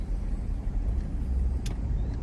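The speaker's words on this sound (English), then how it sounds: "Those dang self-driving cars." A car passing on a city street in Austin, heard as a steady low road rumble with traffic noise throughout and a brief sharp sound near the end, no talking.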